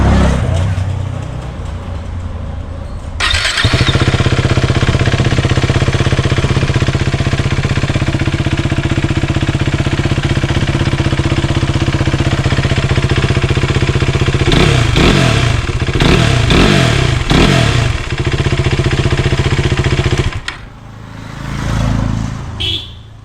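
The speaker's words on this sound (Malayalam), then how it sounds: "ഇത് പിന്നെ ഒരു അണ്ടർബെല്ലി എക്സോസ്റ്റ് ആയതുകൊണ്ട് സൗണ്ട് ഒരു വേറെ ലെവലിങ് കേട്ടോ" A KTM RC 390 BS3 motorcycle with an underbelly exhaust idles loudly and close, a steady throbbing engine note broken by a cluster of sharp throttle blips before it cuts off.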